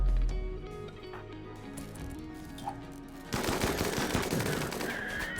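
Gunfire in the video game RimWorld crackles in quick bursts over layered music, and it gets denser and louder toward the end.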